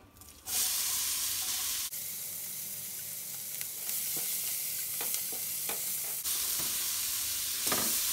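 Garlic and chili sizzle steadily in a hot frying pan, a dense continuous crackling hiss with occasional stirring clicks, close and loud throughout.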